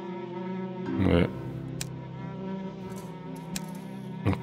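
Flies buzz in the escape game 100 Doors, a continuous nasal drone running throughout, with a brief louder swell early on and a few short clicks and taps over it.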